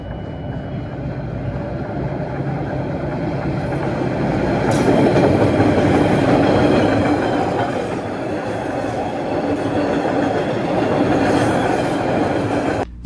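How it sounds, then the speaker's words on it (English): CRRC 1200-series rail car rolling along the tracks, a steady broadband rumble with faint clickety-clack and wheel hiss, swelling slightly louder midway as it passes. "The 1200s have a distinct sound to them when they're rolling down the tracks."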